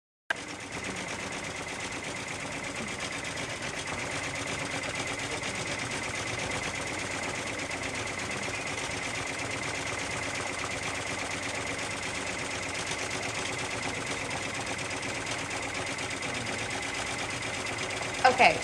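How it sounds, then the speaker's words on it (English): A Brother 10-needle embroidery machine stitches a hat with a fast, even, continuous mechanical chatter at moderate volume, holding steady for nearly twenty seconds before a couple of louder knocks at the end. "I click lock, and I click go. And we're embroidering a hat."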